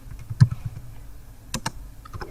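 Scattered keystrokes on a computer keyboard: one firm tap, then a short cluster of clicks and a few light taps, close and fairly clear against a quiet room with no voices.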